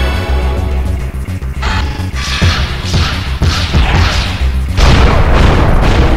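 Heavy missile and plasma explosions in the video game Hybrid Heaven, a run of loud booming blasts and crashes that follow one another across the whole stretch with no talk over them.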